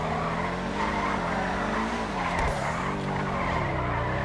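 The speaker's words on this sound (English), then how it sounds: "this car would be looking sick when it drifts" A car in GTA V drifts with long, wavering tire squeals over a roaring engine, loud and continuous throughout, rising and falling in pitch as it slides.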